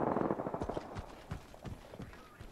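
Rapid bursts of automatic gunfire from the Apex Legends battle royale game, sharp repeated shots in an uneven rhythm, fairly close and loud with no one speaking.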